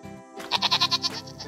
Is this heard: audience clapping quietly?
no